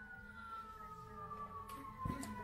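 An emergency vehicle siren sounds in the distance as the vehicle heads out on a call, a faint steady wail with a slowly falling tone under low background noise.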